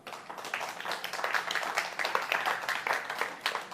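A church congregation claps in sustained applause, a dense, steady patter of many hands heard at moderate distance.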